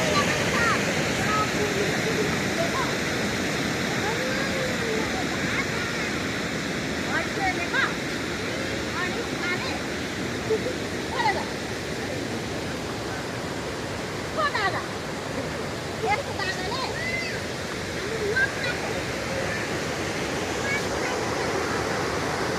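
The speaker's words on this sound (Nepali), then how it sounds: "नदी अथवा खोला।" The Pikjuga river flows with a continuous broad rush of water, fairly close and steady for over twenty seconds, with faint voices now and then beneath it.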